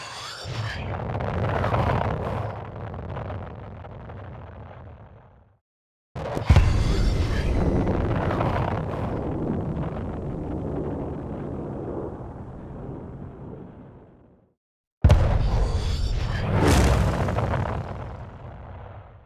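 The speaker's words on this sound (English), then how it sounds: "turns out that gets you pretty close to what actual recordings of rockets sound like" Raw rocket engine roar for the game Starfall, heavy, dense and rumbling, in three long continuous bursts with brief silent gaps between them.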